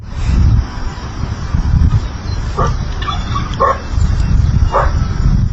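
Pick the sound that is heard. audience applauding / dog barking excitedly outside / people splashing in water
dog barking excitedly outside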